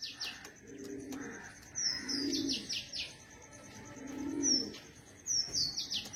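Pigeons, kept birds with upright tails, coo in low repeated bursts close by, with sharp chirps and high tweets in between and no voices.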